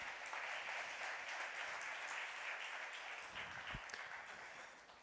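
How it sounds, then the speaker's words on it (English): Audience applause after live music at the Bruges Unplugged session of a 2021 gastronomy tourism forum: quiet, even clapping from a modest crowd, heard somewhat distant and continuous, slowly easing off. "Round of applause, please"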